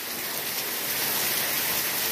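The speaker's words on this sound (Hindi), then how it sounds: "ज़्यादा बारिश जो है वो तेज़ हो गई है" Heavy rain pours steadily in a village setting, a dense, even hiss of water spread across the whole range, loud and close with no pauses or voices.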